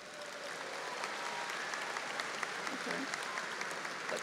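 A graduating crowd at a fall commencement ceremony at Angelo State University gives a steady round of applause for graduates, with dense, sustained clapping filling the hall throughout.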